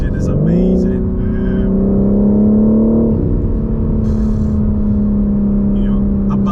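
A 2022 BMW M3 Competition G80 engine held at high revs, a loud steady drone that climbs quickly at the start then holds, with a slight shift partway through and faint voices over it.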